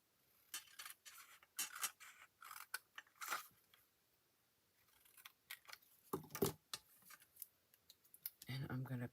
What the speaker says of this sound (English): I'm just going to snip that off.